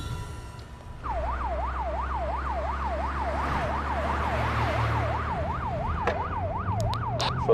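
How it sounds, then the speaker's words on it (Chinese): An emergency vehicle's siren wails in a fast, regular up-and-down sweep over a low engine hum, loud and close, with a few sharp clicks near the end and no speech. "所有车辆关闭警报器。"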